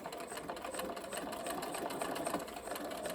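A sewing machine stitches around the rim of a bucket hat made from old jeans, close to the seam. The motor gives a steady, fast, even whirring rattle throughout.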